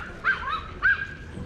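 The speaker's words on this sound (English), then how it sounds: "our little dog is having a good old bark" A small, highly strung dog gives two sharp, loud yipping barks close by, separated by a short pause, with a faint whine in between.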